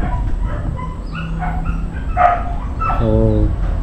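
A dog at the neighbouring house near an abandoned building gives a few short barks and yips in the distance, mixed with background noise and faint voices.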